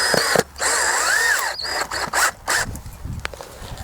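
Cordless power drill driving drywall screws into wooden boards outdoors at an allotment, with whining motor bursts that rise and fall in pitch, separated by short pauses and squeaky clicks.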